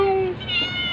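A hungry cat meows in a couple of short, close, clear calls, with faint background noise and no talking over it.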